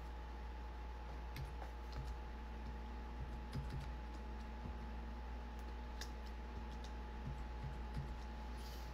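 Keyboard typing in a quiet room, soft scattered key clicks in short irregular bursts over a steady low hum, no voices.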